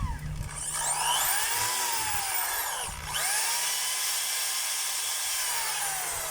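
A repaired DeWalt DWD024 1/2 inch hammer drill runs loud and steady, with a high motor whine that dips briefly as it stops and restarts midway, then carries on continuously alone.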